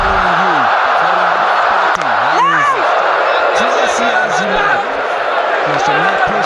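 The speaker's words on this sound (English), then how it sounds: "The crowd is up." A home cricket crowd at a Pakistan vs South Africa ODI roars in a steady, loud wash, while a commentator talks over it throughout.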